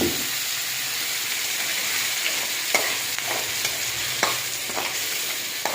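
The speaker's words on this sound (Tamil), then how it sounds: "அரைச்சி வச்சுக்கிற தக்காளி வெங்காயத்தை அதை வச்சு தாளிச்சு" Ground tomato and onion paste tempered in hot oil for an onion chutney, steady close sizzling and hissing from the pan with a few soft stirring knocks, no talking.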